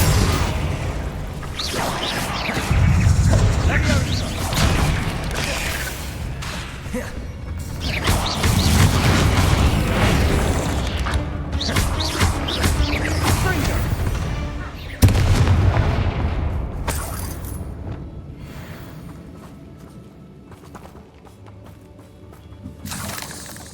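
Blasting-spell explosions in the wizarding game Hogwarts Legacy: repeated loud booms and crashing impacts amid swirling magical effects and battle clatter, with a voice speaking at times over the din.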